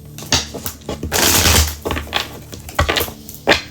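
Tarot cards are shuffled in quick bursts of crisp riffling and slapping, several rapid flurries close by with brief pauses between them.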